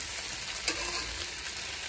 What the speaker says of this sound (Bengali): এখন কি করব, ফেলে তো দেওয়া যাবে না, তাই যে এভাবে ভেজে নিচ্ছি